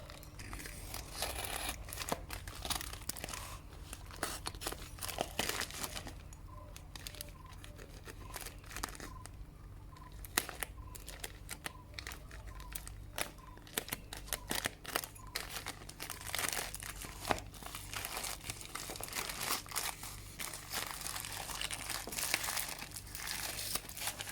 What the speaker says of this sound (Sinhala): හරි මම මුලින්ම මේකේ පැක් එක අන්පැක් කරගෙන ඉන්නම්